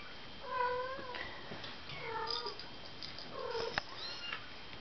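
A mother cat meows several times in short, drawn-out calls spaced a second or so apart, fairly close against a quiet, hissy background.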